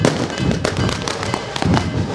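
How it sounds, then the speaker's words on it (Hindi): Firecrackers burst in a dense, continuous crackle of rapid loud pops as a Mumbai political rally crowd welcomes Rahul Gandhi during the 2024 Lok Sabha election campaign. "पटाखों के साथ और तमाम तरीके से स्वागत किया जा रहा है राहुल गांधी का"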